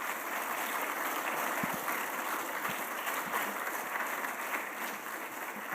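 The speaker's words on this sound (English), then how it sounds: "Let's give another round of applause." Applause from a symposium audience, a steady wash of clapping that lasts the whole clip with no talk over it.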